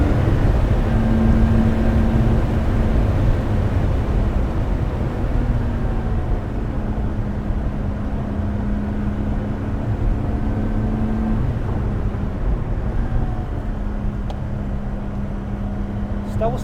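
A Lotus Exige Sport 410 on the Goodwood motor circuit, its engine droning steadily from inside the cabin with rising and falling pitch as it corners, under occasional speech from the occupants.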